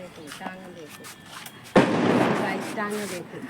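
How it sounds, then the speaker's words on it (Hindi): Voices talk as a sudden loud crack bursts out from firecrackers at a Govardhan puja, followed by a crackling, popping spray that fades over a second or so. "अब फटाके चल रहे हैं, पापा चला रहे हैं फटाके"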